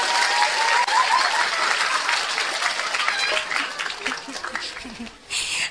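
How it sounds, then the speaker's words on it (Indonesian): An audience at a humorous Islamic sermon in Javanese ngapak dialect applauds, a dense, sustained patter of many hands with scattered chuckles and some voices mixed in, tapering off near the end. "Tepuk tangan dulu dong."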